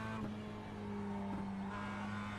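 A Mazda MX-5 race car at Lime Rock in the iRacing simulator revs steadily in a sustained engine drone, pitch rising slightly as it accelerates, heard close and alone at moderate level.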